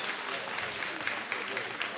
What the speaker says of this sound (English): Brown another round of applause